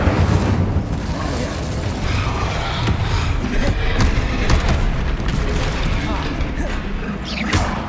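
Incendio fire spells cast in the Hogwarts Legacy video game, a steady stretch of whooshing, crackling bursts and thuds mixed with other spell effects, loud and continuous.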